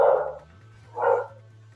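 A dog barking indoors nearby, two loud separate barks about a second apart, with a low steady hum between them and no speech.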